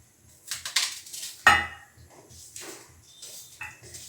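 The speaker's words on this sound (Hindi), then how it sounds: "जब तक ये हो रही है तो मैं अपने टमाटर और प्याज कट कर लेती हूँ।" Knife chopping tomatoes and onions in a home kitchen, a run of sharp, close taps and clacks on a board, loudest around the middle, with one bright clink of a utensil against a dish.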